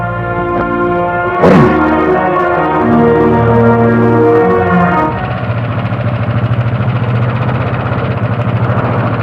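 A fishing boat engine running fast, a loud steady throbbing drone with a strong harmonic hum, a sharp knock near the start and a rougher, busier rumble in the second half.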